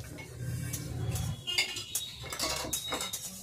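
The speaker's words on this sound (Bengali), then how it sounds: "এই যে মুগ ডাল আর মসুর ডাল নাড়া হচ্ছে" Mung and masoor dal being stirred while dry-roasting in a pan, with quiet scraping and light metallic clinks of a spoon against the pan, soft and close with no talking.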